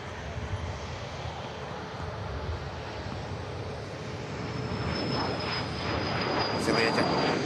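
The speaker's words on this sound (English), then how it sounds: "Cathay Pacific coming around the corner." A Cathay Pacific airliner taxis at Manchester Airport, its engines whining in a steady, slowly building roar, with a thin high tone growing near the end and people talking over it.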